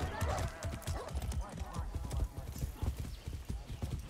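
Horse hooves clip-clop in a steady trotting rhythm in the video game Far Cry 6, close and fairly loud, with a brief whinny and game sounds mixed in under a talking voice.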